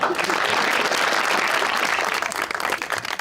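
A studio audience at a Pakistani TV comedy talk show breaks into full applause after a punchline. A dense, loud wash of many hands holds steady for about three seconds, then begins to thin.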